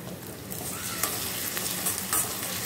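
Onions with ginger garlic paste sizzle and fry steadily in a pan for a fish thokku dish, a close, continuous crackling hiss with a few soft stirring scrapes.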